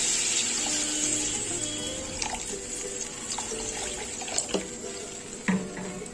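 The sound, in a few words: water poured into fish egg curry gravy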